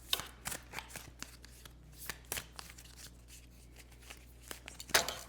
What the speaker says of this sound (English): I don't know why I can't shuffle today.